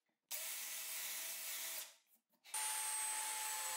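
A power drill bores straight holes in wood using a wooden jig at a workbench. There are two loud, steady whirring runs with a short pause between them and no talking.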